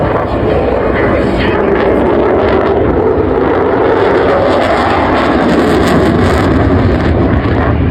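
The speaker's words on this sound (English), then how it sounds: "rolls the aircraft in a graceful barrel roll" A fixed-wing display aircraft's engine roars during a barrel roll at the Blackpool Airshow, a loud, sustained broadband drone that stays steady throughout, with a commentator's voice mixed underneath.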